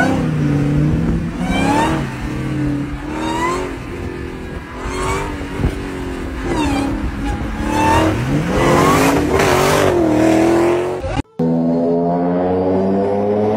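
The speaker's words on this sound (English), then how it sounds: "Which engine sounds the best?" Several car engines rev hard in turn, rising and falling whines with bursts of acceleration, loud and close throughout, with a brief cut near the end before another engine drones on.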